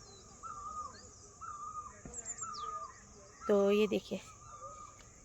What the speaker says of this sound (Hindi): तो आवाज़ सुनिए चिड़िया की, कितनी मधुर मधुर आवाज़ लग रही ना